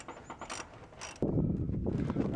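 A socket wrench with a 19 mm socket spins brake caliper bolts in on a 2008 Chevrolet Silverado 2WD front hub, giving quick rattling ratchet clicks that shift into a louder, denser whir, close up, no speech.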